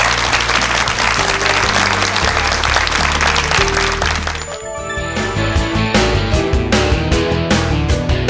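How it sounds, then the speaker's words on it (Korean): Loud, sustained studio-audience applause closes a Korean TV lecture, dense clapping filling the first half before music with bright chimes takes over and the clapping thins beneath it. "큰 박수 드리면서 내일 다시 뵙겠습니다."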